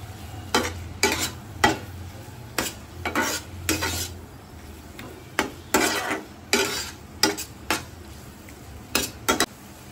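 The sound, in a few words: stirring egg bhujia with coriander leaves in a pan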